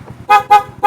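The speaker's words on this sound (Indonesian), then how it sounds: "ini pemasangan klakson udah beres. Seperti itu suaranya." Three quick, loud electric horn beeps from a newly fitted HELLA horn on a Yamaha Mio scooter, in a steady rhythm, close by, with a low engine rumble underneath.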